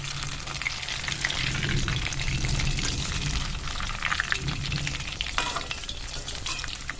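Vegetable pakoras deep-fry in hot oil over a low gas flame, giving a dense, steady, close sizzle and crackle that holds loud for the whole stretch with no voices.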